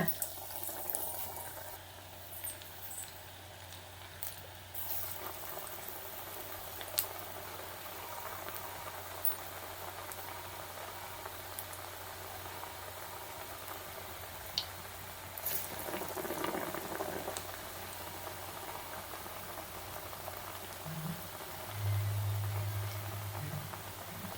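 Oil heating in a pan for frying green peas vada gives a steady, soft bubbling hiss that runs throughout, with a brief louder sizzle swell midway and a low hum near the end.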